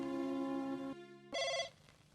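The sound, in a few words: telephone ringing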